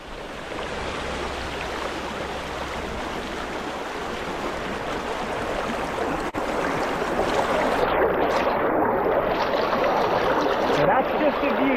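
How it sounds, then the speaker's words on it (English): Water running under the ice of a frozen lake in winter, a steady broadband rushing and trickling that grows slightly louder partway through and continues without a break. "You can see the water running under the ice on that side."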